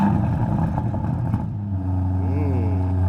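An Aston Martin DBX SUV fires up its engine, a brief clattery start settling into a steady, deep exhaust idle with a small rev rising and falling, close and fairly loud.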